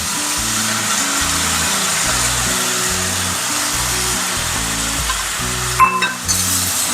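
Drumstick leaves and soaked lentils hitting fried onions in a hot pan, a steady loud sizzle with a low rhythmic hum underneath and a brief clatter near the end, no speech.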